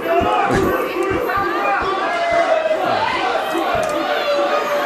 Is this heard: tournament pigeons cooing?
no